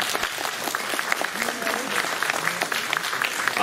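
Applause from an audience at a Squatch Fest gathering, steady clapping over 3-4 seconds with a few voices mixed in, moderately near and fairly even.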